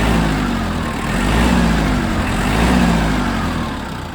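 A Mitsubishi MT305 Japanese mini tractor engine running and being revved, a steady loud diesel rumble that swells and eases in a couple of throttle rises, with no speech over it.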